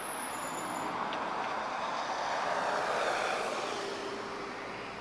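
An Airbus A320-214 departs Lisbon Airport, its engines a broad distant roar that swells slightly and then fades, heard alone without voices.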